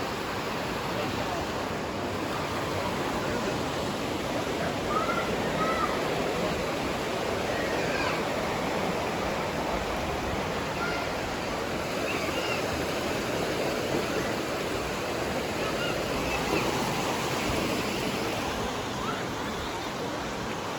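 A spring flows beneath seating platforms at a family holiday resort, giving a steady, dense rush of water that stays constant and fairly loud from start to finish.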